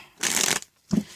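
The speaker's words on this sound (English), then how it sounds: "I'm going to do a couple more shuffles" Tarot cards are riffled in a quick shuffle, a dense papery burst followed by a short tap as the deck settles, close and quiet with no talking.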